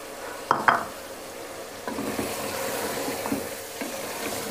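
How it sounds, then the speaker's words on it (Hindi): Beef and masala frying in a pot for Sindhi biryani, with a steady low sizzle and a few clattering stirs and scrapes of a spoon against the pan, moderately close and with no talking. "5 मिनट तेज़ आंच पे हमने जो है गोश्त को अच्छे से भून लिया है।"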